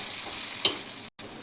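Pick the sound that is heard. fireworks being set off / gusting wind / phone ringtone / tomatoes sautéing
tomatoes sautéing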